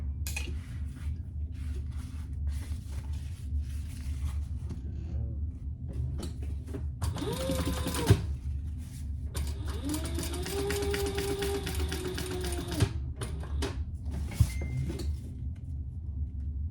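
A sewing machine top stitches a fabric bag in two short bursts, a brief run followed by a longer steady whirring stretch, with quiet handling clicks between them.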